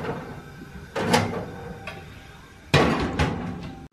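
An oven door swung open and shut for a pizza, two solid clunks about two seconds apart with a brief rattle between them, close by and with no talking.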